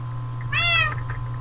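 A single cat meows in Minecraft, one clear rising and falling game-sound meow over a steady background hum and faint repeating tones.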